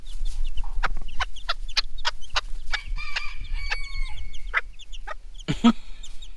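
Chickens cluck repeatedly in short rhythmic bursts close by, with a few longer rooster-like calls mixed in and a low background hum.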